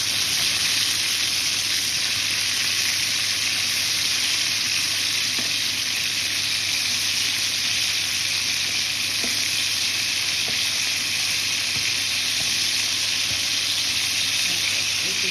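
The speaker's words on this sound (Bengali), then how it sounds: "এরকম করে সবগুলো ভাজা করে নিয়ে সব চিকেন ভাজা হয়ে গেছে" Chicken pieces for butter chicken frying in a pan, a loud, steady, dense sizzle running unbroken throughout with occasional faint clicks of stirring, no voices.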